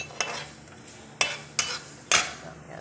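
Ginger sautéed with annatto powder in a pan for papaitan beef, heard as four sharp, close stirring scrapes against the pan spaced out over a low sizzle, with no voices.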